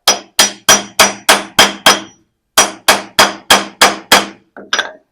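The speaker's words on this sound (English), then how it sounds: "And I'm just taking this hammer" A hammer strikes a stuck lathe compound slide in loud, ringing metallic blows: seven evenly spaced hits, a short pause, six more, then a couple of lighter taps.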